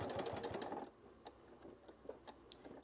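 A domestic sewing machine runs a straight seam about an eighth of an inch from a fabric edge at a long stitch length, a steady rapid whir for the first second, then stopping, leaving faint handling clicks and rustles.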